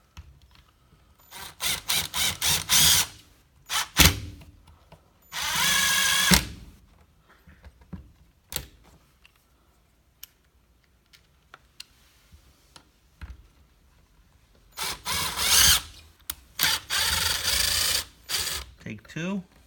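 Power drill driving screws into a Casper screen threshold, several loud close bursts of motor whine, some short and stuttering, some sustained, with quiet gaps and scattered clicks between.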